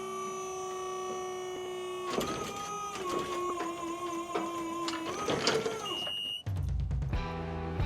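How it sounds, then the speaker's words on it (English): A lift's outriggers extend and auto level with a steady motor whine and tonal hum that shifts in pitch, then a brief beep and a lower rumble at the end. "We're going to extend the outriggers,"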